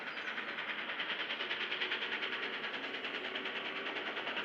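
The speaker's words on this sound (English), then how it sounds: "Princess Elizabeth pounding up the Licky Incline, the steepest mainline railway gradient in the country" Steam locomotive Princess Elizabeth hauls hard up the steep Lickey Incline, its exhaust beating in a steady, rapid chuffing rhythm that stays even and fairly loud throughout.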